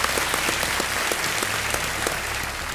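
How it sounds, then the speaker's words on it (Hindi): Steady applause from a crowd, with lots of overlapping claps going on throughout at an even level. "तालियों के साथ इनका हम स्वागत करते हैं"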